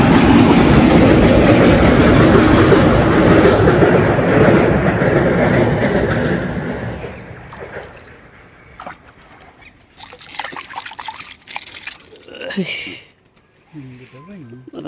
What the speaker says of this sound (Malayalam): ട്രെയിൻ പോയിക്കൊണ്ടിരിക്കുന്നു